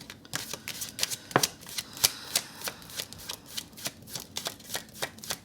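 Tarot deck being shuffled by hand, a steady series of crisp card riffles and soft slaps repeating at an even pace, close and fairly quiet with no talking.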